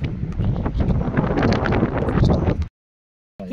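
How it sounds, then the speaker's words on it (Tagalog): Strong cold wind buffets an outdoor basketball court at Avondale, a loud, gusty roar battering the microphone that cuts off abruptly into silence before returning. "Sa sobrang lakas ng hangin, tayo-tayo na yung buhok niya."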